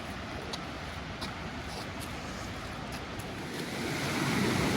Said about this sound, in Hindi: सरयू नदी के किनारे हम लोग, सामने पे बहती धारा है।